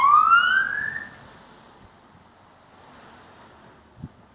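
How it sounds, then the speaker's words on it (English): An ambulance siren sweeps upward loudly for about a second and then fades, leaving quiet street ambience with a single soft thump near the end. "here comes the ambulance"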